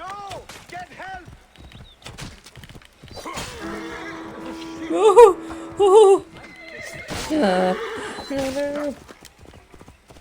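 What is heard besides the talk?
horse neighing and hooves in Assassin's Creed Origins video game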